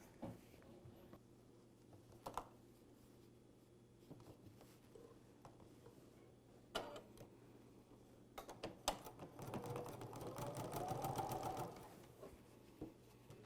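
A sewing machine stitches a quarter-inch quilt seam, running faint and steady at a distance, then swelling into a louder, denser run of stitching near the end with no talk.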